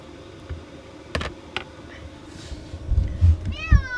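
A cat lets out a brief meow near the end, after scattered clicks, soft thumps and rustling close by.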